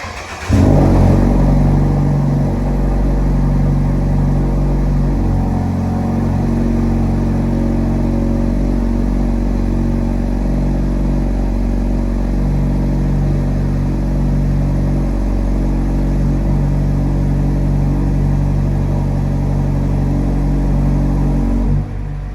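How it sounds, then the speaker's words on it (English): A car engine idles after a cold start on a morning drive toward a car show, its steady low rumble running continuously and closely, with revving swells as the car pulls away and keeps driving, no talking. "not too bad of a cold start this morning"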